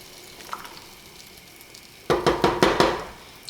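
Butter melting in a pan gives a quiet low hiss at first, then a burst of close, rhythmic sizzling and crackling pulses for the last second and a half.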